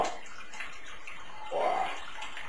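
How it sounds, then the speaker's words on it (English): Liquid is poured slowly for homemade whisky in a bathroom, a steady splashing trickle that swells briefly partway through. "now the pouring is a bit slower, getting all the crap there silting off"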